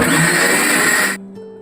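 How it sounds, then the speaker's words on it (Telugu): A kitchen mixer grinder blends chutney with a loud, close, high whirring that cuts off abruptly partway through, leaving a faint residual hum. "మధ్యలో మరి కొంచెం గట్టిగా ఉంటే తిరగదండి మిక్సీ."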